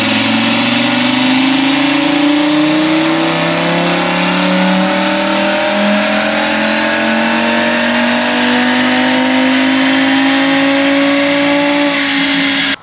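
A stock Audi RS3 engine roars loud and close on a dyno, rising in one long sustained pull through the gears with no talk.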